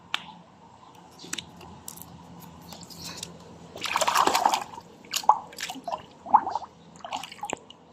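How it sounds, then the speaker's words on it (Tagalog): Swimming pool water is scooped up for a test kit, giving a brief splash and slosh near the middle, followed by a few close drips and small plastic clicks amid quiet surroundings. "So, kuha lang tayong tubig."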